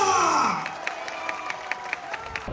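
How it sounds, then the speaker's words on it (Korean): Stadium crowd at a Bucheon K3 League football match cheering loudly at first, the roar falling away into scattered rhythmic clapping and distant shouts. "우리 부천의 전사들에게 힘찬 박수와 함성 발사!"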